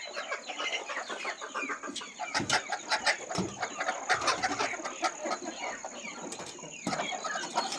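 Country chickens cluck and call near a warming fire on a cold winter day, several birds close by with repeated short clucks and sharp notes over a steady high hum.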